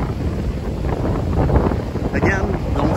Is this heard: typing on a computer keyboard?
no